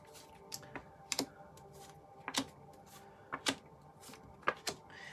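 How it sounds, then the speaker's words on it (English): A tarot deck being cut and handled, a series of sharp card snaps and taps coming in irregular pairs, close but quiet, with no talking. "All right, let's cut the deck."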